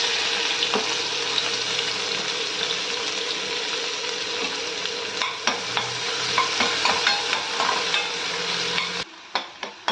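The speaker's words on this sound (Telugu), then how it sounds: "ఇప్పుడు ఇదే ఆయిల్లో ఆనియన్స్ ఫ్రై చేసుకోవాలండి." Onions fry in oil for a Telugu cauliflower masala gravy, giving a steady close sizzle with frequent stirring scrapes and clinks that grow busier toward the end before a brief drop.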